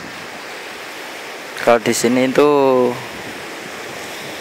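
Surf at Watu Karung beach in Pacitan, a steady broadband wash of waves running under and after a short stretch of nearby speech.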